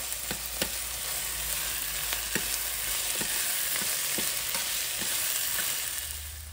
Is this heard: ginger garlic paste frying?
yes